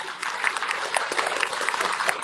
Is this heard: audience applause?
yes